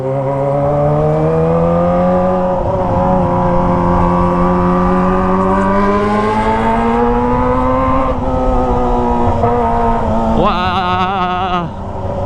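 A Kawasaki ZX25R motorcycle with a Toce aftermarket exhaust revs hard on a rainy street, a loud, close, high-pitched wailing engine note that climbs and holds steadily, then sweeps up sharply near the end over road noise.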